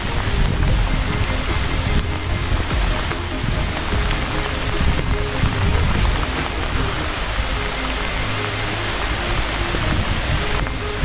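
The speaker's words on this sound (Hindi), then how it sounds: "ये देखिए झरने का व्यू," A waterfall at Mainpat in Chhattisgarh roars as a continuous broadband rush of falling water, loud and steady throughout, with no talking.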